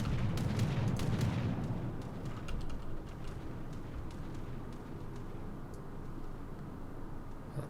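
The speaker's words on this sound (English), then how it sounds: "So my incredible main gun batteries actually managed to do something." Main gun batteries of the battleship USS Oklahoma fire in a naval video game as a heavy rumbling boom that decays into a long low roar with crackling fire underneath.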